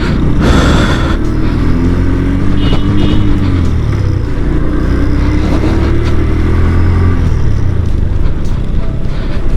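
A motorcycle on a group ride holds a loud, close, continuous engine rumble mixed with wind noise, with pitch rising and falling as it accelerates.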